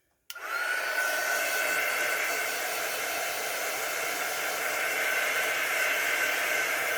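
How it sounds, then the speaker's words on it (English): A heat gun blows a steady, loud, broadband rush of hot air over a small UV resin piece with alcohol ink, starting abruptly and running continuously without pause or talk. "I'm using my heat gun, because there's little bitty tiny holes in here"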